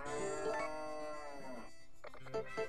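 A cow moos in the farming video game Harvest Moon: A New Beginning, giving one long, drawn-out bellow followed by shorter grunting calls, close and clear with no speech.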